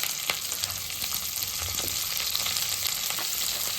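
Capsicum pieces sizzle and fry in a hot pan for kaju chilli paneer, a steady loud crackle with occasional stirring scrapes and no talking.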